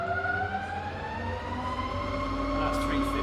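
A rebuilt Bridgeport milling machine with a 42-inch table runs at about 50 RPM, giving a steady mechanical whine with layered tonal hum, while a low rumble rises toward the end.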